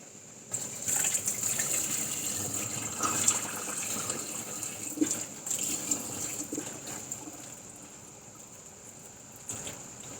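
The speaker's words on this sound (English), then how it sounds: "dump the water out in the sink" Water used for preparing raw sea moss splashes and gushes steadily into a sink for several seconds, with a bright hiss and uneven sloshing that tapers toward the end.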